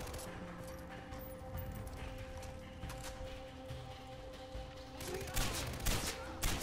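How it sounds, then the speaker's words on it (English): Gunfire in the Far Cry 4 video game, a few sharp shots standing out late over a dense, noisy game soundscape with background sounds throughout. "Three shots and he's dead."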